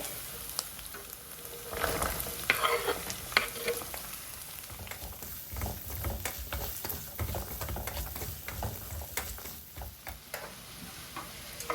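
Shallots fry in oil for a home-style chicken curry, a steady close sizzle with scattered crackles and the clicks and scrapes of stirring, continuing for several seconds with no talk.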